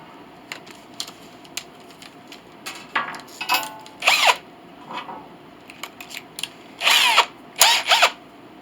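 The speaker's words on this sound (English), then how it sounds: "we have to drill these holes pretty straight" Short bursts of a power drill boring holes in wood during restoration of an 1867 Chickering piano, whirring, stopping and starting in an irregular rhythm, fairly close and moderately loud with no talking.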